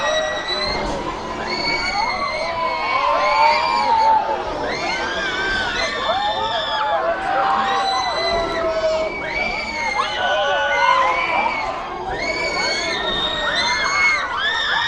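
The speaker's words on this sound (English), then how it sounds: "There's lots of screams on it" Crowd of riders screaming and shouting on an amusement park ride at Lightwater Valley, a dense continuous wash of high shrieks and whoops, loud and sustained throughout with no clear pauses.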